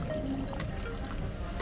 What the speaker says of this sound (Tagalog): Magbubuhos naman ako ngayon ng tubig.